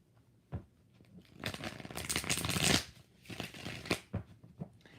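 A deck of tarot cards is being shuffled by hand nearby: soft riffling and sliding bursts that build to a dense, crisp flurry in the middle, then trail off into a few lighter taps and shuffles.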